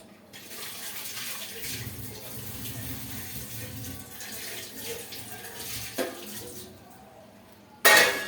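Tap water runs steadily into a kitchen sink while something is rinsed under it during cooking, a continuous moderate splashing with a few faint clinks and a sharp burst at the very end.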